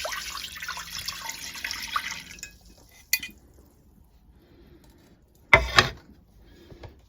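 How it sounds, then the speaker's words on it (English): Blackberry liquid poured out into a container, a steady splashing stream that stops, followed by a clink and a brief louder splash and knock, with no talking. "I'll pop them berries in the compost. So the liquid can go in there."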